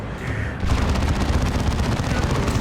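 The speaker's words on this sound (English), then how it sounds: "The sound of the Assault Cannon Dreadnoughts, the damage it puts out" Heavy automatic fire from an Assault Cannon Dreadnought in Dawn of War II: Retribution, a dense continuous barrage of rapid booming shots that swells after a brief lead-in and stays loud throughout.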